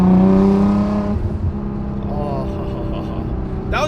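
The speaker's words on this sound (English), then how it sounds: "it's been a while since we did a sound clip of the car" A sports car engine revs loudly close by, with a strong throaty tone that rises and then settles into a lower rumble, and a brief higher burst comes at the end.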